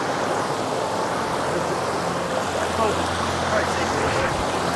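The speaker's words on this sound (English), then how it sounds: "So you got four waterfalls right here all in one." Four waterfalls together in one spot pour in a steady, full roar of rushing water that stays loud and unbroken throughout, close by.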